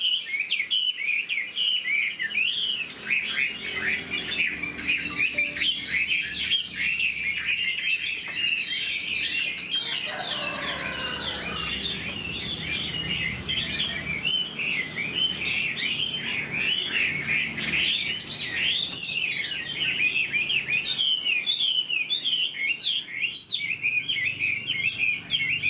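A caged, hand-tamed Chinese hwamei pours out a long, loud, unbroken song of fluid warbles and fast repeated trills, heard up close without any voices.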